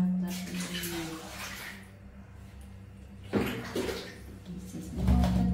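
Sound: water being changed for a baby monkey

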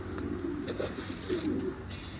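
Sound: domestic pigeon cooing

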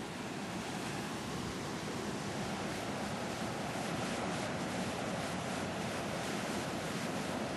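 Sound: ocean waves

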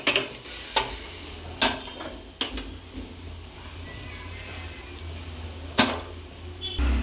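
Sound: stirring masala in a pan for vegetable biryani

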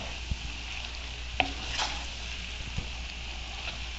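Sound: stirring pasta with sausage in a frying pan

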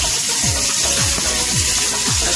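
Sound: shallots and garlic sizzling in hot oil

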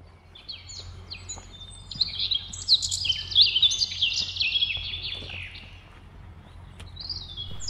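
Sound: birdsong in New Forest woodland

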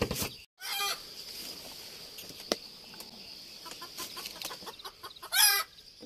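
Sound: hen and chick clucking

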